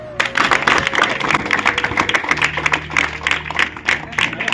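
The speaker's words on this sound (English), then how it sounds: "clap." A class of students claps together in a classroom, a lively burst of many hands beating fast and loud, with a low steady hum underneath.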